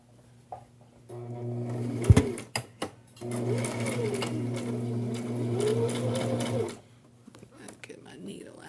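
A sewing machine runs a seam along the inside edge of fabric, humming steadily up close for several seconds after a brief start, with short handling knocks around it and a voice speaking nearby.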